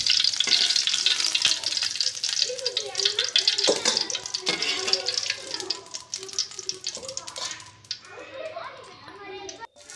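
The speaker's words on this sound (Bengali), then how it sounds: "কড়াইয়ের ভিতরে এই মাছগুলো রেখে দিয়েছি এখন রান্না করার জন্য। কড়াইতে মশলাগুলো দিয়ে দিয়েছি।" Fish fry in a kadai with spices, making a loud continuous sizzle broken by stirring scrapes and clatter, while a person talks over it.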